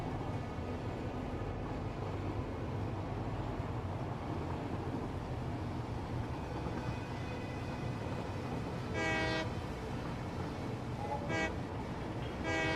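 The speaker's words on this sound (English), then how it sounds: "That was a train whistle." A train whistle sounds in the video game Satisfactory, two short bright toots near the end over a steady low rumble of rail travel.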